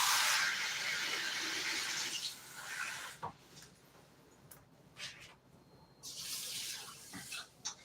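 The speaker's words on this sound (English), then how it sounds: "1 cup of rice, 1 cup of water." Water poured from a tap into a pot holding one cup of rice, a bright rushing splash for about two seconds, then quieter handling sounds and a second short burst of pouring near the end.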